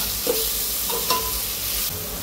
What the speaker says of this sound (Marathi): त्याला आता आपण चांगलं मिक्स करून घेऊया, एकदम छान हलवून घ्यायचं।